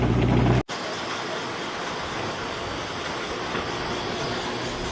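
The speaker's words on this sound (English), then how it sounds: "Still driving around the ranch checking on things" Vehicle driving around a Texas ranch where emus and deer are kept, a steady broadband rumble of engine and road noise running continuously after a loud, low burst that cuts off abruptly near the start.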